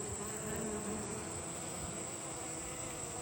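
Honeybees buzzing at the front of a hive: a steady, soft drone of many insects with a faint high whine, continuous and fairly quiet, with no speech.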